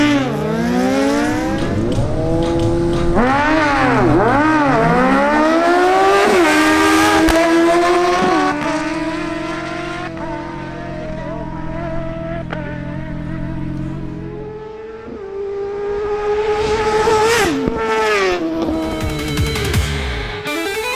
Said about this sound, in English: Next up is Ricardo Ramirez on his Kawasaki ZH2.